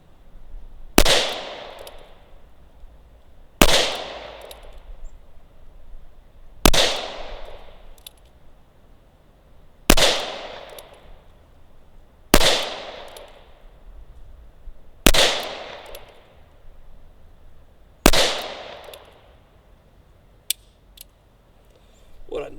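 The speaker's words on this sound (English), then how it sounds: "Let's see how we can shoot single action." Seven sharp, loud gunshots from a Ruger LCR X .22 LR revolver fired single action, spaced roughly every three seconds, each crack followed by a short decaying echo, with no talking between shots.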